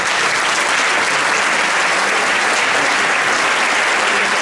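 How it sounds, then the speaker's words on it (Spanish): Steady, dense applause from an audience at a talk on pain and exercise, continuous and fairly loud throughout with no voices over it. "así que por favor pido también un aplauso para él."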